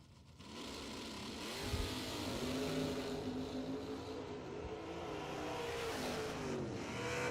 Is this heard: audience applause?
no